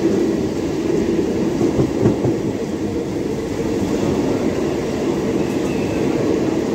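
A Mumbai local train runs loudly along the tracks, with a dense, continuous rumble and rattle of wheels and carriages that stays close and steady the whole time, with no talking.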